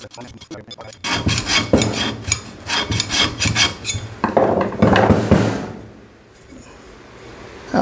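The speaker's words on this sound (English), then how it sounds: "you can take a piece of sandpaper" Sandpaper rubs inside the rear brake drum of an EZGO golf cart, loud rasping strokes in quick bursts, then a fading pause.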